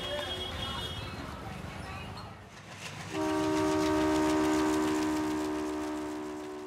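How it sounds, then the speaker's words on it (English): A train rumbles along a main railway line in Moradabad, India, then a long, loud horn blares steadily for several seconds before slowly fading, with voices faintly in the background. "This is a main railway line of Moradabad"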